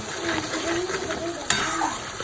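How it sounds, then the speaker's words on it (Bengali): Spices sautéing in hot oil for a mutton curry: a soft, steady sizzle with light scraping and a sharp clink of a utensil against the pan partway through. "এবার হচ্ছে কষানোর পালা মশলাগুলো একটু কষুক"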